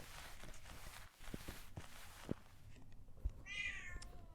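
A cat in the Silent Hill video game meows in a short, rising call near the end, after a stretch of soft footsteps and scattered thumps, fairly close and otherwise alone.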